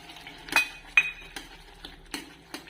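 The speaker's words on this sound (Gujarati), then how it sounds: "આ બોઇલ કરેલા વટાણા છે એ આપણે એડ કરી દઈશું" A metal spoon clinks repeatedly against a pan as boiled peas go into simmering pav bhaji, several distinct taps and scrapes spaced out over quiet background.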